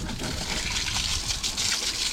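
Water sprays and splashes over the greasy engine bay of a 1993 Ford F150 4x4, a steady close rushing hiss with no pauses.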